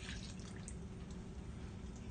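Milk pours into a bowl while peach cobbler batter is being mixed in a home kitchen, a continuous soft liquid splashing and gurgling heard close up, with no talking.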